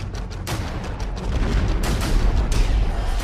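Deep rumbling roar with a few sudden sharp cracks and booms from an Israeli strike in Lebanon, loud and sustained with no voices.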